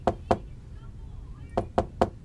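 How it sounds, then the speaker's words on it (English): Knocking on a door in a video game: two quick knocks, a pause, then three more evenly spaced raps, crisp and fairly close over a faint background. "We can also knock on doors."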